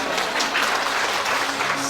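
Steady applause from an indoor audience at a public speaking event, dense and continuous clapping filling the whole moment with no voices on top.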